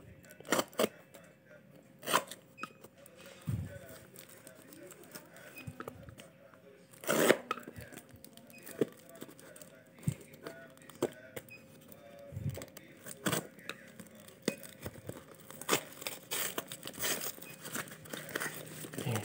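Packaging crinkles and tears repeatedly as a parcel of clothing is unwrapped, with close, irregular rustles, crunches and sharp rips across the whole stretch and no talking.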